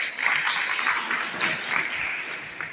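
An audience at a felicitation event for a political leader's birthday celebration claps steadily in a moderately loud, continuous wash of applause that swells slightly and carries on.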